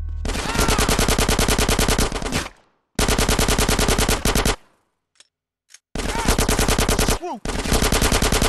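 Sustained automatic gunfire in GTA San Andreas, loud rapid bursts of several seconds separated by short pauses, with brief speech in between.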